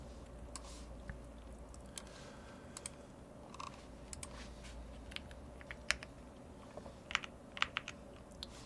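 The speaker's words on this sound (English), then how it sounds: "This is a Bubble 75 keyboard." Keystrokes on a Bubble 75 mechanical keyboard, a steady run of light, irregular clicks over a low background hum, fairly quiet and close, with no talking.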